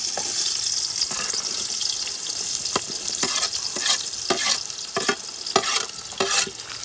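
Onions sautéing in a pan for a country chicken dish, with a continuous hiss and sizzle and irregular scraping knocks as they are stirred.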